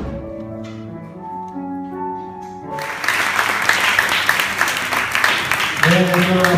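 Applause breaks out for a singer, a dense steady wash of clapping rising after a sustained musical passage fades, filling the room loudly before tones return near the end.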